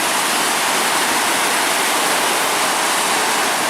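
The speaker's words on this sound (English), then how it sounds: "check out the large waves rolling onto the beach this morning" Large waves on a lake roll onto a beach and splash against rocks along the Pictured Rocks shoreline, a loud, dense, continuous wash of surf filling the whole stretch without a break.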